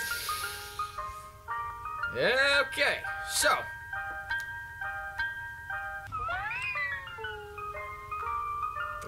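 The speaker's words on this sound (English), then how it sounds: "That is the creepiest Ice Cream Man music I've ever heard." An ice cream truck jingle in the video game Free Icecream plays a wobbly, tinkling melody in repeating phrases, with a short burst of swooping tones and a voice speaking briefly.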